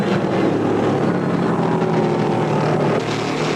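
Stock car engines roar continuously at the 1975 Carolina 500 NASCAR race, a dense, steady wall of racing engine noise with no pauses and no talk.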